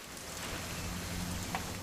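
Rainfall in the game What Remains of Edith Finch, a soft continuous wash with a faint low hum beneath, fairly quiet and unbroken.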